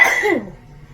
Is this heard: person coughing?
yes